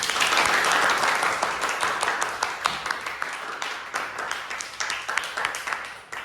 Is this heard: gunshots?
no